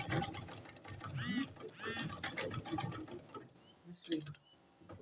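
A sewing machine runs in steady bursts while top stitching a double-breasted jacket, its mechanical whir mixed with faint background noise and brief chirping tones.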